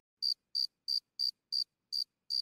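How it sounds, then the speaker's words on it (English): A cartoon pet cricket chirps in seven evenly spaced, short bright bursts, each a rapid trill, clear and alone against silence. "I brought my pet cricket."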